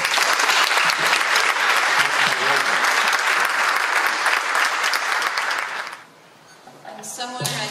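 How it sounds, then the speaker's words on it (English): A seminar audience claps steadily for about six seconds, a dense, loud wash of applause that fades, then a speaker begins talking. "let's give her a warm round of applause."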